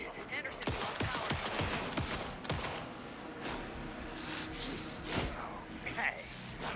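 Rapid bursts of gunfire crackle in the Alan Wake II video game, arriving as dense fusillades mixed with game effects while voices talk over them.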